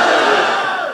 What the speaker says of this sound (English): Come on, comrades, lift the roof off. Amandla. Amandla.